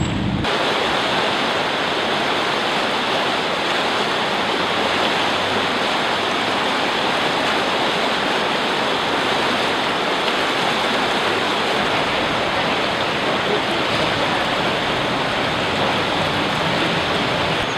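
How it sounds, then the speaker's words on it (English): A river in Helena rushes past rocks with a steady, loud, close-up roar of turbulent water that holds unbroken throughout. "we're down by the river now"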